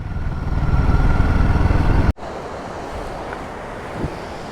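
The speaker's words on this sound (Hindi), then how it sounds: "और अच्छा खूबसूरत वाटरफॉल है।" A strong white waterfall plunging from a height, on a mountain road trip from Dharchula to Munsiyari, gives a loud, steady rushing roar. The roar cuts off abruptly partway through and returns quieter and more distant.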